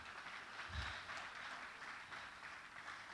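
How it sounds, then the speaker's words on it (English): Audience applause at a hackathon grand finale event, a steady, fairly faint wash of clapping from a crowd that holds evenly throughout. "let's keep clapping till he sits down."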